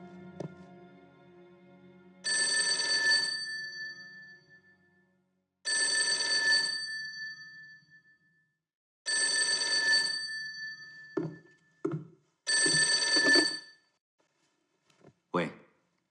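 An old-style telephone bell rings in four loud, evenly spaced bursts of about a second each in an office at a military headquarters, followed by brief clicks and short speech.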